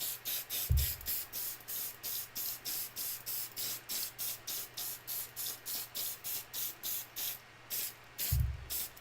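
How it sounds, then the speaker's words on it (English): An aerosol spray can sprays in a long series of quick, evenly spaced hissing bursts, close and steady, with a couple of low thumps at the start and end. "Let me just spray this."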